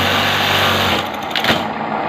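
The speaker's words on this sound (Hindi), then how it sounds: "तो अभी मैं आपको फुल स्पीड में काज करके दिखाता हूँ" A buttonhole sewing machine runs at full speed, a fast, even mechanical whir that cuts off partway through, followed by a brief clack as the cutter drops, with no talking.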